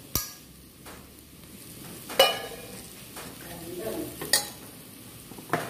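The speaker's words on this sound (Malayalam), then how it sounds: "പൊടി ഒന്ന് ചൂടാക്കിയെടുക്കാം കരിഞ്ഞു പോവണ്ട പൊടി ഒന്ന് ചൂടാക്കിയെടുക്കാം" Spice powder being dry-heated in a pan while being stirred, soft sizzling and scraping under a few sharp clinks of a spoon against the pan, close and fairly quiet, with no talk.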